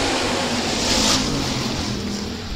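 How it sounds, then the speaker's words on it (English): USRA Hobby Stock race cars run a heat race under green at Rapid Speedway, a loud continuous roar of several engines that swells briefly and then eases slightly. "Heat race number three, the USRA Hobby Stocks back under green."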